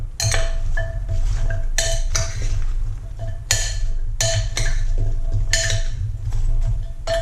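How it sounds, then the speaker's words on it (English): Chopped vegetables for a pot roast being mixed in a bowl, repeated clinks and scrapes of a utensil against the dish over a low constant hum. "Mix all the veggies up."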